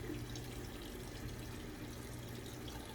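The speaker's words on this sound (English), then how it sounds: "I'm just pouring some water on my head." Water is poured over a person's head during a shave, giving a continuous close splashing wash that lasts the whole moment without a break.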